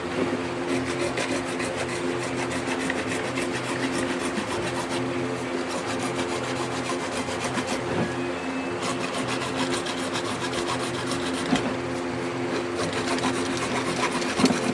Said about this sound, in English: there are easier ways to cut PVC, but this is a brand new blade and it's doing pretty well